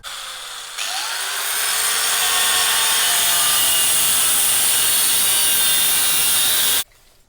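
A power saw cuts a piece for a metal stool frame, starting with a brief spin-up and then a steady, loud, high-pitched grinding cut held for several seconds before stopping abruptly.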